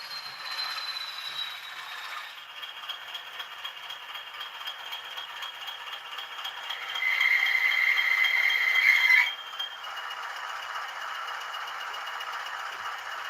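A model locomotive's sound chip whirs and rattles steadily, with a brief louder, higher-pitched stretch midway before settling back to an even mechanical drone.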